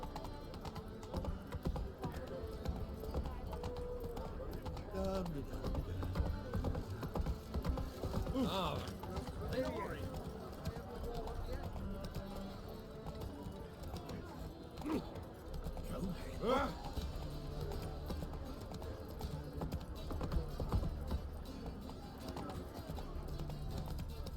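Horse hooves clip-clop steadily on a hard surface in The Witcher 3, mixed with rustling and game sounds, while people talk over it at times.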